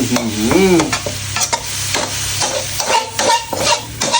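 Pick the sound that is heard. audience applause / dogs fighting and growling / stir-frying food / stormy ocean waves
stir-frying food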